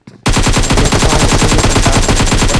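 Rapid automatic gunfire in PUBG Mobile, a loud, sustained burst of evenly spaced shots firing in quick rhythm for over two seconds, close and alone.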